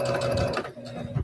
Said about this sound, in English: Now I'm turning this back down where you guys can see me sew it